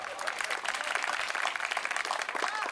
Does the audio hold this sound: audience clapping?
yes